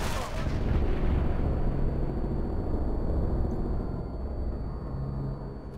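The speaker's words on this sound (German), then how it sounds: "ich hab den gerade erwischt, als er seine Granate gezogen hat, ist die Granate hochgegangen." Grenade blast in the shooter game Sniper Elite V2, a loud sustained booming roar that rolls on for several seconds and slowly fades, heard alone without talk.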